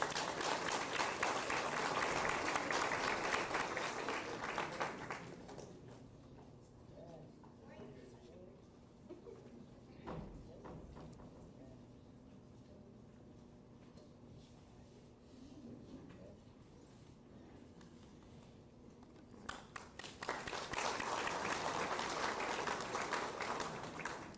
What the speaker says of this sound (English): Let's give his family a round of applause.